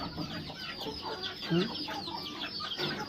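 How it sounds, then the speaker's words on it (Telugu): Chickens feeding give repeated soft clucks and short calls close by, a busy flock sound with a slightly louder call midway, alongside faint background hum. "మన కోళ్ళు ఎట్లా తింటున్నాయి చూడండి"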